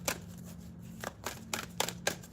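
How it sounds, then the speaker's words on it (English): Large tarot cards are shuffled in several quick riffling bursts, close and crisp over a faint steady hum, with no voice. "I need to shuffle a little more."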